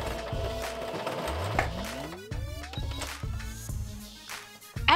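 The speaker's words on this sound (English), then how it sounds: "I sew around the edges, paying special attention not to close any openings." A sewing machine stitches around the edges of glove fabric, giving a rhythmic mechanical whir with a rising motor tone and repeated short pulses, close and fairly loud.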